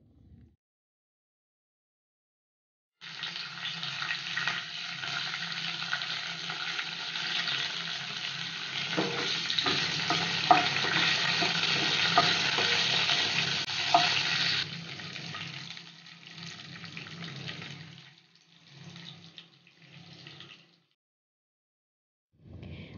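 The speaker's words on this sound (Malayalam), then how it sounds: "അതൊന്ന് ചൂടായി വന്നാൽ അതിലേക്ക് ഉണക്കമുളകാണ് ചേർക്കുന്നത്" Five dried red chilies dropped into hot oil in a pan: a loud, steady hiss begins abruptly and runs for about twelve seconds, then thins into sporadic crackles and fades, with no talking.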